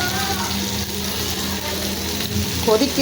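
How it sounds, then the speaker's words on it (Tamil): A pot of fish curry bubbles and simmers steadily, a dense crackling hiss close by, with a faint clink near the end. "மீன் குழம்பு கொதிக்குது."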